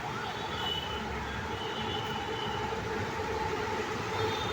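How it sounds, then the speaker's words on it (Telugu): A metro train arrives at Uppal station in a steady, loud roar with a faint high whine on top, continuous for the whole stretch and with no voices. "ఇంకో మెట్రో వచ్చింది ప్రతి ఐదు నిమిషాలకు ఒక మెట్రో ఉంటుంది"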